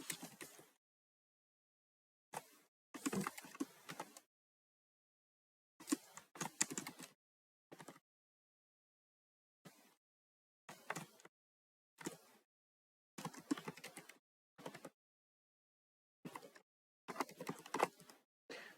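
A computer keyboard is used to type a title into desktop publishing software, with short bursts of quick, close keystrokes separated by silent pauses, quiet and with no talking.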